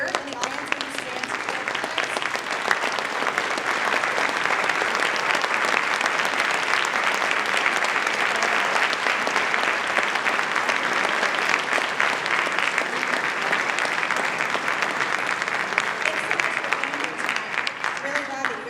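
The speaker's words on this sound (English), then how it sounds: "So please give them a round of applause." Winter concert audience giving a long, steady round of applause for student band players, a dense continuous clatter of many hands with scattered voices underneath.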